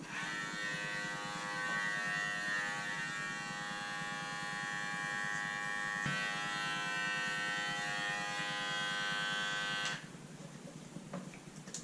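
Electric hair clipper fitted with a 1/16 guard buzzing steadily and close while cutting hair at a barbershop, a continuous motor hum that drops off sharply near the end.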